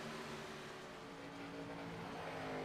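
A damaged race car engine at Darlington Raceway in a racing video game drones steadily and loudly throughout, a continuous rough roar with no break.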